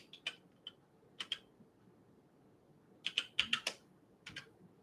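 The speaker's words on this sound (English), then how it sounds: "I'll type it out." Fingers type on a computer keyboard in short, irregular bursts of crisp clicking keystrokes, with pauses between the clusters. It is fairly quiet and close, with no talk.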